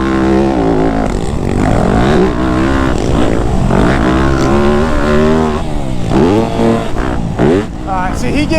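Motocross dirt bikes, including a 350 and a YZ250F, roar and rev hard on a track, with engine pitch rising and falling through throttle surges and one final burst of throttle, loud and close throughout.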